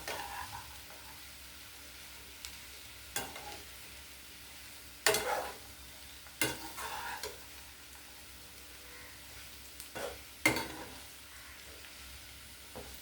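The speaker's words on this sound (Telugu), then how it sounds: "దీన్ని కొంచెం జాగ్రత్తగా కలుపుకుని, ఇదేమి చిన్నది కడాయి కాదండి" Ivy gourd pieces frying in a large kadai, a faint low sizzle broken by several separate stirring scrapes and clatters of a spatula spaced a few seconds apart.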